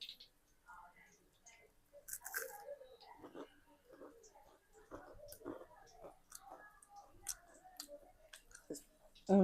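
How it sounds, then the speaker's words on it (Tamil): Crisp crunchy bites and chewing, a series of close crackles and clicks with some quiet movement between them. "சவுண்டு கேட்குதுங்களா? நல்லா கிறிஸ்பியாக நல்லா சவுண்டு. கடிச்சு சாப்பிடும்போது இந்த அளவுக்கு முறுமுறுன்னு இருக்கணும்."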